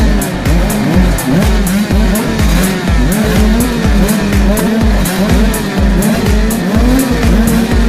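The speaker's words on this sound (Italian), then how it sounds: "Motori al massimo." Several motocross bikes revving hard at the start gate of a Sardinian championship round on a muddy track, loud close engines blipping in rapid rhythmic pulses that fill the whole stretch.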